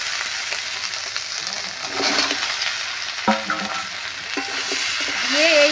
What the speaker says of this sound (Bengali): দিয়ে এইভাবে মশলার সঙ্গে বেশ ভালো করে কষে নেব